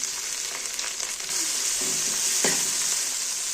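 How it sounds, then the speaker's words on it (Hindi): Garlic ginger paste hits browned onions in hot mustard oil, and a loud sizzle suddenly jumps up and holds steady and bright, heard close with no voices. "अब इसमें मैं डालूंगी लहसुन अदरक का पेस्ट।"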